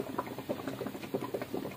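A pot of liquid cooking chicken stuffed in a bottle gourd bubbles at a steady rolling boil, with soft popping and gurgling up close and no voices.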